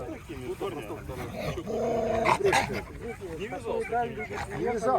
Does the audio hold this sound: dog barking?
yes